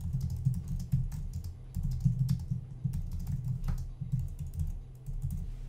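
Steady typing on a computer keyboard while entering a radio show's playlist details, continuous clicking keystrokes in dense bursts with brief pauses, close and clear with no talking.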